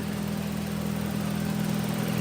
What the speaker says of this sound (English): Engine sounds rough. Yeah, it's got that notorious lifter tick